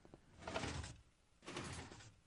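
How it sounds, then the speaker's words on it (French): A hidden door in a video game slides with a faint, grinding whoosh, followed by a second similar sliding movement after a short pause. "La porte se ferme."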